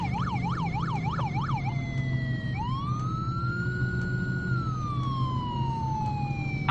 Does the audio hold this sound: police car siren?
yes